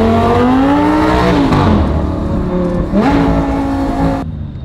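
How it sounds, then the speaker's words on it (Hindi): A Lamborghini engine roars loud and close, its pitch dropping and climbing as the car downshifts and revs hard, with steady road and engine noise throughout. "डाउन शिफ्ट करते हैं गाड़ी का थोड़ा सा।"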